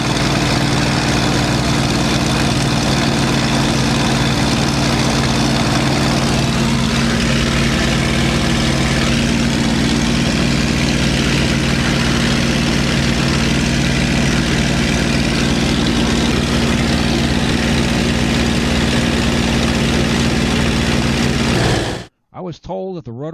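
A P-51C propeller aircraft engine drones loud and steady during the climb, a constant heavy hum with firm low tones that cuts off abruptly near the end.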